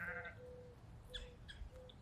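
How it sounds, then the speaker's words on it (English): Sheep bleat on a farm, a few short nasal calls close by, one at the start and more in quick succession toward the end, over low rustling background. "you're gonna get sheep."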